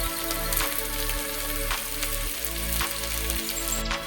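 Onions fry in a pan with a steady, dense sizzle that continues evenly throughout, with no voices.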